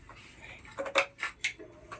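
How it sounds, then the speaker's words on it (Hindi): Metal clutch plate clinking as it is fitted onto the clutch assembly of a Splendor BS6 motorcycle, a few light, close metallic clicks and taps in quick succession, no talk. "अब इसके ऊपर फिर हमें एक क्लच प्लेट को लगाना होगा।"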